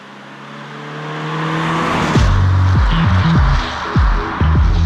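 A 2018 Toyota 86 driving on the road, its engine revving up close and loud and climbing through several gear changes, with each shift briefly dropping the pitch before it rises again.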